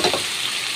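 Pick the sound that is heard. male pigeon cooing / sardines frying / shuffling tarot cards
sardines frying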